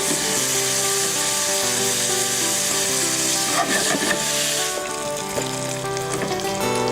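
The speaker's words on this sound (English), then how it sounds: "we're going to give this pancetta about 5 minutes to caramelize and then add the onions." Pancetta frying in a pan, a steady close sizzle with crackling and occasional stirring scrapes, continuous and without talk.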